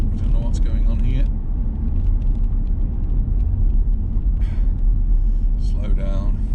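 A car creeps along in a traffic jam, its engine a low steady rumble close by, with faint passing-traffic noises on top and a person talking over it.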